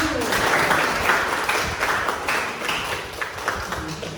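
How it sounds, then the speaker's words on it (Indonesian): A group at a coaching session gives Sakti a warm round of applause, a dense, close patter of many hands with a few faint voices mixed in. "tepuk tangan buat sakti"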